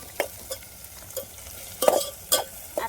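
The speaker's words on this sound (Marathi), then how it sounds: "तर हा कच्चा लसूण मस्त कच्चेपणा जाऊ द्यायचा आहे, तोपर्यंत आपल्याला परतून घ्यायचा आहे मस्त." Raw garlic being sautéed in a pan, heard as a soft, even sizzle with several spatula scrapes and taps spaced out, close up with no voices.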